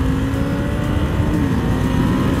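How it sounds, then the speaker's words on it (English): A 2020 Ducati Diavel 1260 S motorcycle engine held at high revs against the rev limiter, a loud, steady, droning roar at close range throughout. "Rev limiter."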